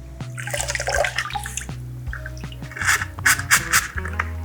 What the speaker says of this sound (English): We're washing it in the same water that we did a water change with.